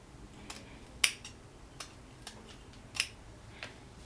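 Scissors trimming the front lace off a kinky curly glueless wig: about five or six sharp, quiet snips spaced irregularly over a few seconds in an otherwise hushed room.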